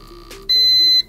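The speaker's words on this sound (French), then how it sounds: "On a une petite vibration moteur, un bip, c'est validé." A single loud, clear electronic confirmation beep from an airsoft rifle's fire-mode selector holds steady for about half a second, preceded by a faint motor-vibration hum and a soft click.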